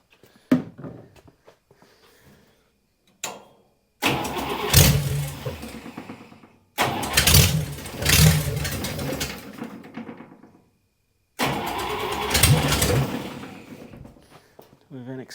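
A vintage dragster's old Buick Nailhead engine cranks in short bursts, then catches and revs loudly in three long roaring runs separated by brief silences, close by.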